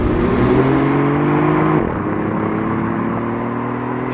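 A BMW i8 with a little three-cylinder hybrid engine revs hard under acceleration, its synthesized artificial engine note droning loud and steady, dipping briefly mid-pass before climbing again.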